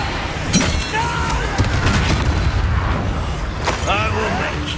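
Confringo fire spell explosions burst during a Hogwarts Legacy duel, deep booms and blasts repeating through dense, continuous combat noise, with voices calling out over the fight.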